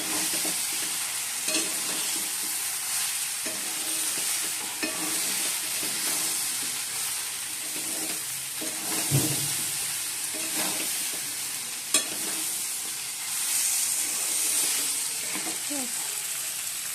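Spice paste being sautéed in a pan for a Bengali home lunch, a steady sizzle and stirring scrape running throughout, moderately loud, with occasional spatula knocks and faint voices in the background.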